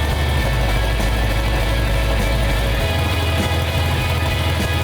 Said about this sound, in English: It was really good to hear the engine run.